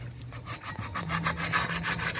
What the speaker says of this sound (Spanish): Se puede usar una lija y se lijan todas estas partes.